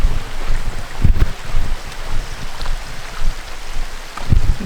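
A creek flows below a waterfall along a hiking trail, a loud, continuous rushing and gurgling of water heard up close, with occasional low thumps and no talking.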